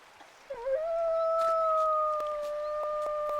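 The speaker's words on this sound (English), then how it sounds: "I wonder if I howl right now." A wolf in a video game lets out a long, clear howl that rises, then holds a steady wavering pitch for about three seconds, loud and close with no talking.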